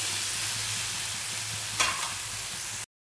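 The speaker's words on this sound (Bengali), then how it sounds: "এবার এটা বেশ করে নেড়ে নেব। দেখুন মশলাটা ভালো করে কষতে হবে।" Masala for a bhindi curry fries in a pan, a constant close sizzle with one brief scraping stir before it ends suddenly.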